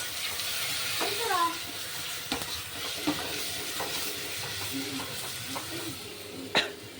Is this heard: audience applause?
no